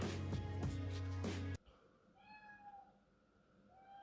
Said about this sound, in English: Don't know if you can hear the cat meowing.